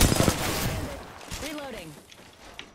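Video game gunfire: a dense burst of rapid shots crackles loudly at the start, then fades into a softer rumble as a voice briefly cuts through in the middle.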